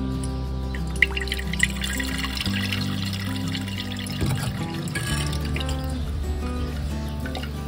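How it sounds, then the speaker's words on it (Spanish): Cherry water, made from cherries steeped in sugared water, strains through a cloth-covered sieve: a steady close trickle of liquid with scattered drips, and no talking. "Ahora lo vamos a filtrar con la ayuda de un colador o un cedazo, tapado con algún tipo de tela natural"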